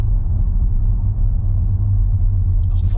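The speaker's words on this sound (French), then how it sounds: "il y a quelques petits bruits autres hein, parce qu'on reste sur des pavés" A car rolls over the cobblestones of avenue Foch at about 50, giving a steady, heavy low rumble of tyres on paving, close and constant, with no talk.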